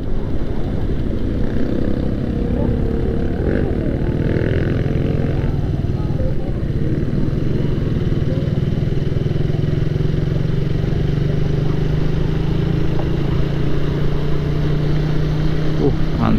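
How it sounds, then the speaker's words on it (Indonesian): Busy night traffic on a city street in Batam, Indonesia, with a constant loud wash of engine rumble and motorbikes passing close by, unbroken throughout. "Lumayan rame untuk jalanan kota Batam ya di malam minggu ini"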